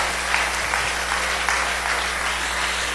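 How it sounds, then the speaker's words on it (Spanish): A church congregation claps together in a short burst, steady and moderately loud, with a low constant hum running underneath. "Dale un aplauso para el Señor."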